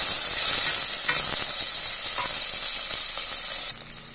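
Onions and curry leaves sizzle in hot oil while being tempered for a horse gram kuzhambu, giving a steady, loud, close frying hiss throughout with no talking.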